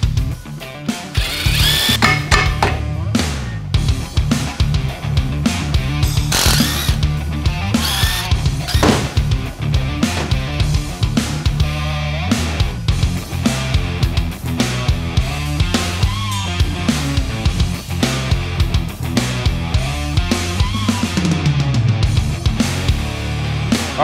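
Ring gear bolts on a rear differential being torqued up during an e-locker install, with a loud, continuous run of ratchet clicks and mechanical tool noise, steady and close, and no talking.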